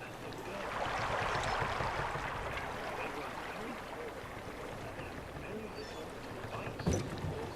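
A steady wash of water rushing and splashing as a boat moves through water in the horror game The Park, with a sharper knock near the end.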